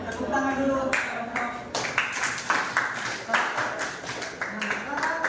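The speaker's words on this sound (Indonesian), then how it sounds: "Tepuk tangan dulu." Applause from a small group at a class presentation, several seconds of loose, uneven clapping that swells and thins, close and moderately loud.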